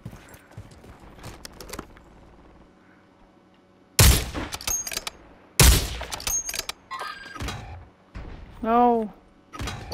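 Bursts of gunfire crack out in a Warzone 3 battle royale match, two loud volleys in quick succession followed by scattered shots, with a short spoken exclamation near the end.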